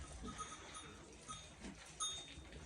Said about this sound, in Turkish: Bakın dostum yeni doğmuş kuzuya bakın ya